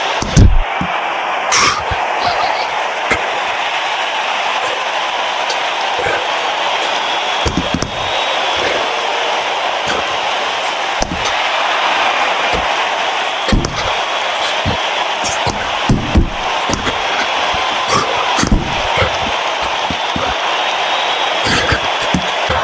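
Punches land in a VR boxing game as a run of sharp, scattered thuds and slaps over a steady hissing background, with no talk.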